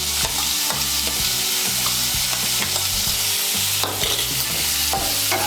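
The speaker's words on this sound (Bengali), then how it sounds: "পেঁয়াজ কুচি আর লঙ্কা কুচিটাকেও লাল করে ভেজে নেব।" Chopped onion and green chili frying hard in hot oil for chana dal tadka, a loud dense sizzle that stays steady throughout, with scraping spoon strokes stirring in a quick rhythm close by and no speech.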